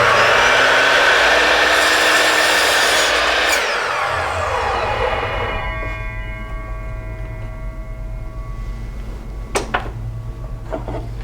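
Power tool cutting a 45-degree bevel on the end of wooden foot stool feet, loud and close at first, then spinning down into quieter ticks and clicks.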